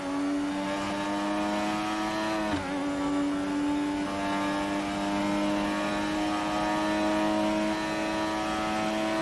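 McLaren MP4/4 Formula 1 car in F1 2018 at Mexico, a high-pitched engine revving hard and holding a sustained whine with a brief dip in pitch partway through, loud and steady with no talk.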